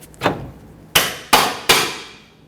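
On a 2006-2010 Hyundai Sonata front lower control arm, a bushing is driven into place with a socket and extension in four sharp metallic strikes. One is softer, then three loud evenly spaced blows ring briefly, close up with no talk.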